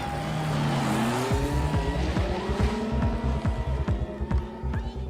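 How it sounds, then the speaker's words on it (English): Motorbike engines rev together at a street race start, a loud, close roar with rising and falling pitches and quick, repeated throttle blips layered over one another. "Engines revved."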